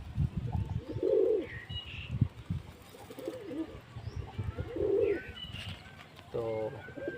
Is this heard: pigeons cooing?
yes